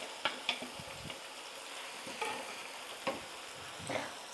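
Ingredients for Colombian ogao sizzle steadily in hot oil, with soft crackle and occasional louder clicks and stirring knocks close by, no voices.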